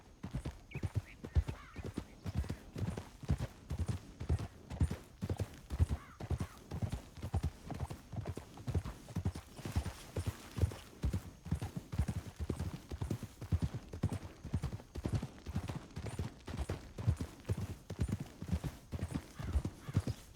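Steady clip-clop of horse hooves in the video game Red Dead Redemption 2, a brisk even rhythm of hoofbeats that continues throughout with a faint background hum.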